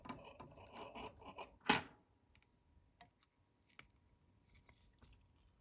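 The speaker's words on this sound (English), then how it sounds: "I'm going to reach in with my scissors, cut that stem off." Scissors snip a peacock herl stem at a fly-tying vise while tying a Peacock and Orange Spider wet fly, one crisp close cut followed by small quiet ticks and handling noises, no speech.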